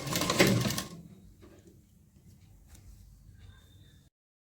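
A sewing machine stitching a lined blouse runs in a short loud burst at the start, then drops to faint scattered clicks and handling sounds before stopping.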